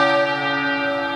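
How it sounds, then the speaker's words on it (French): Church bells in Como, Italy, on a rainy day ring out loud and close in one sustained, shimmering metallic peal, its rich overtones hanging evenly before being cut off abruptly. "dès que je parle, les cloches elles se mettent à sonner"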